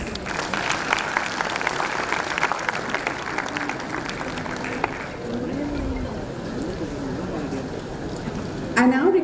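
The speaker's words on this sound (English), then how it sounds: "Huge round of applause." Audience applause at an international management conference, a dense crowd clapping steadily for about five seconds before thinning, with a voice speaking over the tail end.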